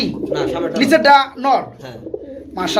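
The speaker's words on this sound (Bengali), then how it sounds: "বিগ সাইজের হোয়াইট কালার কাগজি কবুতর" A big white Kagzi pigeon coos in low, throaty bursts close by, mixed with a person speaking.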